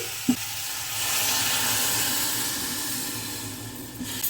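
Water poured into a hot pan of beetroot and carrot curry bursts into a loud, steady hissing sizzle that swells and holds for several seconds, preceded by a single sharp knock.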